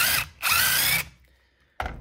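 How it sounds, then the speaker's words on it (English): A power drill with a cone-shaped countersink bit bores a recess for a screw head in wood, running in two close bursts with a short whir before a third burst starts, loud and near with no talking. "push down with this cone-shaped bit, and I'm just trying to make a recess about the size of the screw head"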